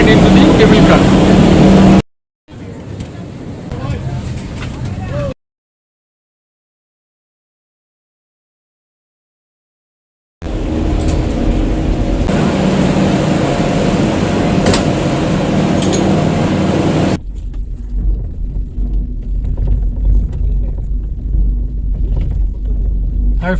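Steady low rumble and hum inside a cable car in Srinagar, running loud and continuous with a brief cut, then a long stretch of even mechanical drone and wind-like noise; no talk.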